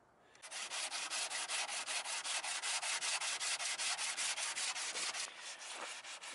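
Hand sanding of car body filler with 80 grit sandpaper makes a steady series of rough, raspy strokes, about four per second, close and loud, after a quiet start.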